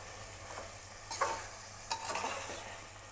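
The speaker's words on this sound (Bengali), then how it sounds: "আমি ভালো করে কষিয়ে নিচ্ছি" Mutton being stir-fried with spices for a Bengali-style curry, a low steady sizzle in the pan with a couple of louder scraping stirs partway through, close and fairly quiet with no voices.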